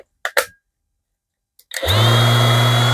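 A few clicks and handling noises, a pause, then a vibrating disc sander with a speed regulator whirs up and runs at a steady, loud, buzzing hum close by.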